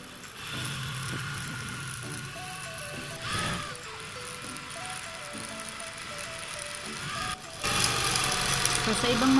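A high-speed sewing machine started with the foot pedal, a steady mechanical whir rising and running continuously, while someone talks over it.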